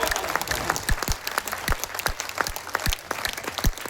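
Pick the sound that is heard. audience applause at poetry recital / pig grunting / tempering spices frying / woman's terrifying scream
audience applause at poetry recital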